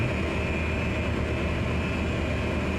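A steady, loud low engine drone and hum from an AI pilot's aircraft taxiing in after landing at Virginia in Microsoft Flight Simulator 2020, continuous without any voices.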